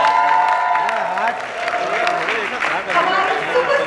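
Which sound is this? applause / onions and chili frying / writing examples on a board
applause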